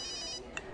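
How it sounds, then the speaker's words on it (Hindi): A mobile phone ringtone plays faintly for a moment, a thin high-pitched electronic tone that fades out quickly. "तुम्हारा फोन बज रहा है।"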